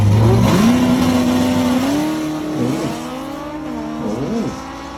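Classic muscle car doing a burnout to heat its tires before a drag race, a loud sustained engine roar rising in pitch with revving swells and tire noise, close and dominant throughout.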